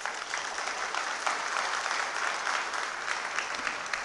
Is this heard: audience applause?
yes